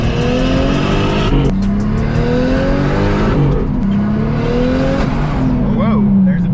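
A boosted Lexus IS300 engine roars at high RPM under hard acceleration, revving up in repeated rising pulls with gear changes, loud and close from inside the car, while people talk over it.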